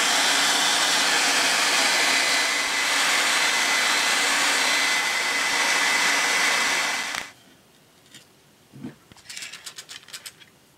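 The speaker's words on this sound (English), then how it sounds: "I'm going with the hairdryer method" A hair dryer blows loudly and steadily at close range for about seven seconds, heating decals off a 1971 Mattel VertiBird toy, then cuts off, leaving a few faint rustles and clicks.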